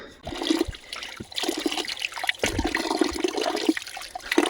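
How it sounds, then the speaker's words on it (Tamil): Spring water on the Vellingiri hills trek spills and trickles near a rock outdoors, a close, steady splashing flow with gurgling bursts across the whole stretch. "அந்த பாறைக்கிட்ட ஒரு சுனையில் தண்ணி வரும்"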